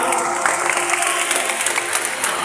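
Crowd applause during a Catholic Mass honoring San Lorenzo Ruiz, dense, continuous clapping from a large gathering, fairly close and even for the whole stretch.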